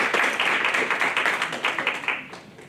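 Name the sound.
audience applause for students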